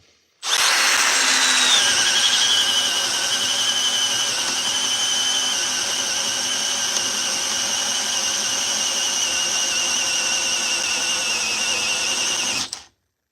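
A Milwaukee M12 sub compact drill bores a 1 inch hole, a loud steady whine that runs without a break for about twelve seconds and then cuts off.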